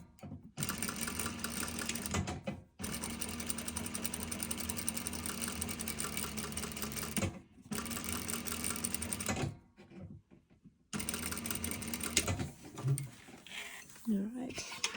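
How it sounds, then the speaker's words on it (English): A sewing machine stitches a J-curve seam on a front fly zipper with a half-inch seam allowance, running in long loud steady bursts separated by short pauses, with a quieter stretch of handling at the end. "want to stitch the rest of this J-curve here"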